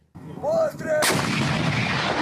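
A high whine rises, then a single loud, sharp blast erupts from a Leopard tank's rifled gun, followed by a long rumbling decay.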